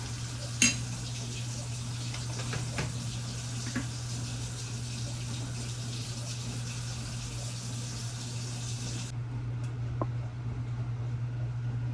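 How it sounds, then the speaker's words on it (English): Steady bubbling and light sizzling from a pot of apples boiling on the stove for apple cobbler, continuous and close, with an occasional clink of utensils and no talking. "we're just gonna let that boil so the apples can get good and tender."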